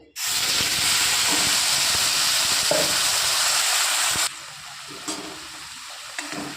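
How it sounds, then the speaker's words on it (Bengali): Masala paste of ground mustard, green chilli, garlic and onion hits hot oil for a Bengali bhola fish curry, giving a loud, steady sizzle and hiss that drops sharply to a softer frying crackle after about four seconds. "ওই তেলেই আমি মশলার পেস্ট দিয়ে দেবো।"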